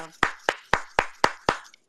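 Six single hand claps at a steady, even pace, each sharp and close, with brief decay and no talking in between.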